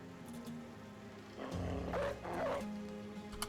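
Dogs in the Battle Brothers video game give a short burst of growls and barks around the middle, fairly close and set over a low, steady game backdrop.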